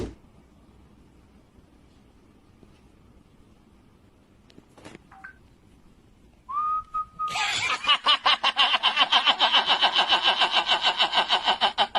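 After near silence and a short whistle, a voice imitates a tractor engine, a loud rhythmic sputtering chug repeated rapidly and close.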